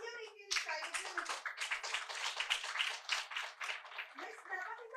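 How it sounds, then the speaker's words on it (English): Applause from a seminar audience on employer branding, welcoming panel speakers, dense and continuous clapping across the whole stretch, steady and moderately loud after a brief tone at the start. "Let's have a huge round of applause"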